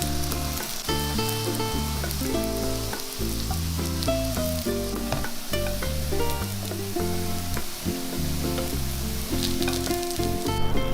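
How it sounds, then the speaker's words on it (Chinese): Small okara-egg pancakes, flipped to brown the other side, crackle in shallow oil in a flat pan; a continuous close sizzle persists under a backing music track. "一面煎金黄了，给它翻另外一面煎。"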